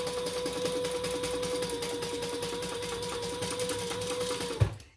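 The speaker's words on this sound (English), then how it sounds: "on the ID window we're going to sew all the way around" A sewing machine runs continuously up close, stitching around the ID window of a handmade wallet with a steady whirring hum, then stops with a soft thump at the end.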